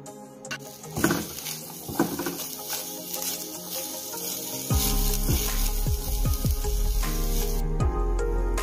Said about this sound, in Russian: Лук и чеснок обжариваем